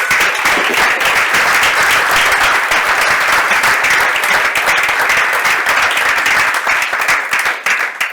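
Loud, dense applause from a poetry reading audience, sustained clapping for about eight seconds before starting to fade at the end.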